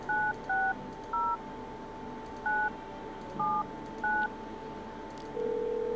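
Touch-tone keypad beeps from a telephone in a video game: about seven short, evenly spaced dialing tones, each a brief clean two-note chirp, then a steadier tone starting at the end, all over a low background hum.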